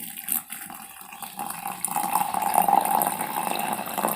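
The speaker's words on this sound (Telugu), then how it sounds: "ఈ మరుగుతున్న నీళ్ళని పోయాలన్నమాట" Boiling water pours from a vessel into a coffee filter, a soft trickle that builds into a steady close splashing stream.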